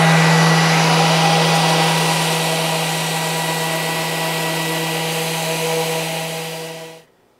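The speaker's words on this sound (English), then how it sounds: "I'm just going to hit it with my random orbit sander with a little 180 grit to clean up any last imperfections." A random orbit sander with 180 grit paper runs on wood, a loud, close, steady whirring hum that stays even and then spins down and stops near the end, with no talking.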